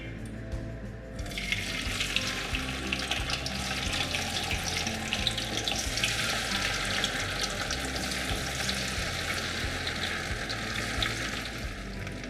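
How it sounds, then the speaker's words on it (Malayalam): Cauliflower pieces coated in maida and cornflour deep fry in oil over a medium flame for gobi manchurian, a dense, steady hiss and bubble that stays close and even throughout with no talking. "ഞാനിതൊരു മീഡിയം ഫ്ലെയിമിൽ വെച്ചിട്ടാണ് വറുത്തെടുക്കുന്നത്."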